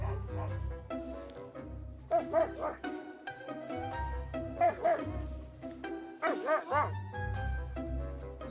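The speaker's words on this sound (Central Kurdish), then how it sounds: "سەگی هەسکی بەقووترین سەگێن کە تەحملی سەرمایەکەکەن تا بگاتە 40 ژێر سفر" Husky sled dogs in snowy Svalbard yip, whimper and whine in high, wavering cries with a few barks, near and fairly loud, continuing throughout the stretch.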